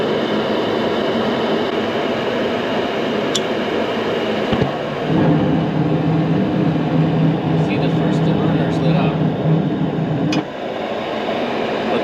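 A household gas furnace burner lights with a low roar and runs for about five seconds, then cuts out when the flame fails to carry across, all over a steady rushing background noise.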